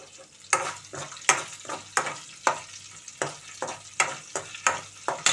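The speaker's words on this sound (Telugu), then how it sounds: "ఇప్పుడు తాలింపు గింజలు, ఆవాలు, జీలకర్ర, ఎండుమిరపకాయలు అయితే వేసేస్తున్నానండి." Mustard seeds, cumin seeds, dried red chillies and urad dal fry in a kadai as a tempering, with a close, loud sizzle and a rapid, regular run of sharp spatula scrapes and stirs.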